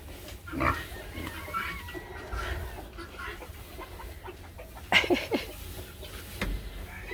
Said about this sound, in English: Some happy pigs.